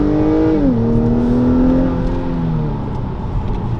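A 2021 Acura TLX A-Spec engine accelerating in sport mode, with a loud, steady in-cabin engine drone whose pitch climbs, then dips at a gear change and holds as the car pulls harder, continuous throughout.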